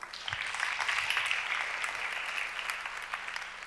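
Sustained audience applause for members of a cleantech conference keynote team, a dense steady patter of many hands clapping continuously throughout at moderate level, with no talk over it.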